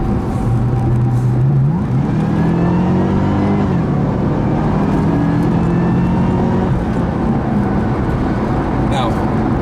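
A 2009 Cadillac CTS-V accelerates hard past slower traffic, its engine note climbing loud and close through rising gears for nearly ten seconds, with a short shift dip early on and a steady roar throughout.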